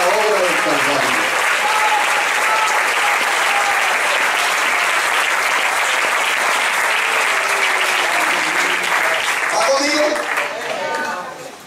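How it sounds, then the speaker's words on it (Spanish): A church congregation applauds in gratitude during a sermon: dense, loud, sustained clapping from many hands that holds steady, then thins and fades in the final second. "que ese aplauso sea de verdad, en gratitud a la obra del Calvario"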